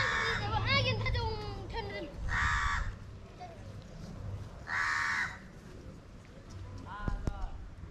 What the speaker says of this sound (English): The crow is making a noise.